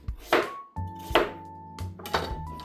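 A knife chops through an aged pumpkin, cutting it into pieces with three sharp, close thuds spaced about a second apart over a low steady hum.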